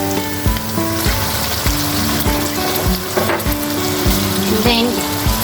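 Sliced green chillies hitting hot oil, with cumin powder already in the pan, as a dried-fish and taro-stolon dish is cooked. The sizzle is loud and continuous, with repeated stirring scrapes and clinks running through it.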